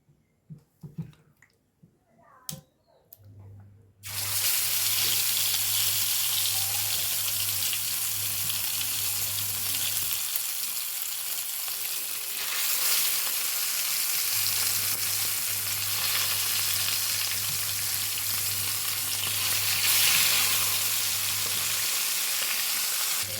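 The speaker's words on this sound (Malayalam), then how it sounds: "നമ്മൾ വെളിച്ചെണ്ണ ചൂടാക്കുന്നതിന് ഇനി മീനിട്ട് കൊടുക്കട്ടെ." Fish sizzling in hot coconut oil, a steady loud frying hiss that starts abruptly after a few quiet seconds and continues unbroken at close range.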